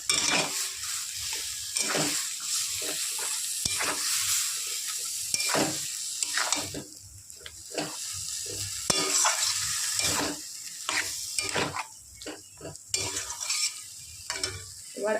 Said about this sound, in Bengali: এবার দিয়ে দেবো মাছের তেল এবার